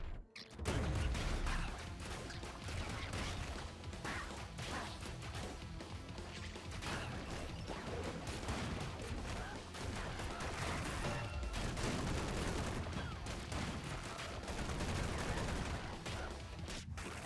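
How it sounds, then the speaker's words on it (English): Minigun fire in the roguelite game Scourgebringer is a dense, continuous rattling barrage with crashing impacts, loud and sustained across the whole stretch over busy game audio. "Minigun!"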